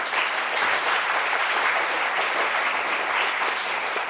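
A seated audience at a Seoul elderly-care policy forum gives a steady, full round of applause, dense and even throughout with no talking on top.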